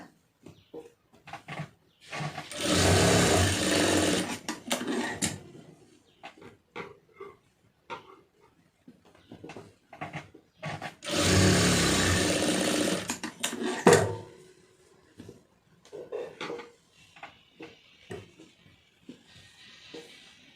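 A sewing machine stitches a blouse shoulder seam in two loud, sustained runs of a few seconds each, with quieter handling clicks and rustling of fabric between them. No one talks.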